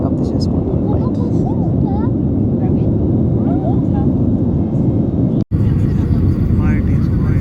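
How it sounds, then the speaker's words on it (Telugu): Inside a passenger airplane during takeoff, a loud, steady roar of engines and rushing air runs throughout, broken by a brief dropout, with voices faintly audible underneath. "30-40 secondsలో టేక్ ఆఫ్ తీసేసుకుంటాం ఫ్లైట్."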